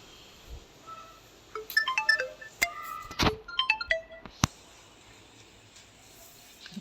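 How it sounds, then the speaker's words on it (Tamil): A mobile phone ringtone plays a short, bright melodic phrase of chiming notes in a quiet kitchen where a miniature ghee-roasting sweet dish is being cooked, with soft clinks around it and no talking. "அதுக்குள்ளே ஒரு ஃபோன்."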